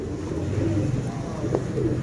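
Young flying pigeon giving soft low coos, close but subdued, with a brief sharp click partway through and a faint voice in the background.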